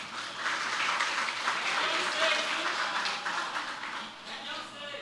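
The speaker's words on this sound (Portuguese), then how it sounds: "Queria chamar com uma salva de palmas o Cleison e a Eliana para se juntar a gente." A crowd at a church gathering gives dense, steady applause, welcoming a couple to the stage, sustained throughout and fading slightly at the end, with a voice faintly underneath.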